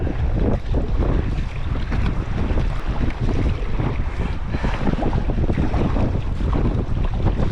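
Strong headwind buffets the microphone while sea kayaking on cold open coastal water, a loud, continuous roar of wind noise with waves washing beneath it and no voices.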